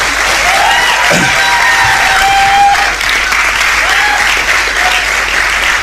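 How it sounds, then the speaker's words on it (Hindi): Loud, sustained applause from a large crowd, with scattered cheers and whistles rising over the steady clapping. "तालियां बजाओ दोस्तों"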